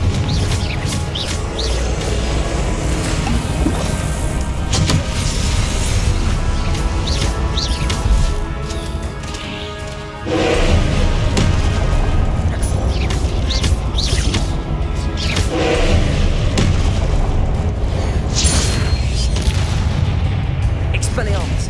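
Confringo fire spells exploding in the game Hogwarts Legacy, repeated booming blasts in a dense, loud, continuous battle mix, with voices calling out over the din.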